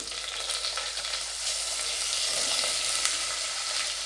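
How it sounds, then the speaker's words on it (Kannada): Ridge gourd sizzles in a pan with mustard seeds, cumin, garlic and curry leaves, a steady bright frying hiss with occasional stirring scrapes, close and continuous. "ಹೀರೆಕಾಯಿನ ಸ್ವಲ್ಪ ಫ್ರೈ ಮಾಡ್ಕೋಬೇಕು."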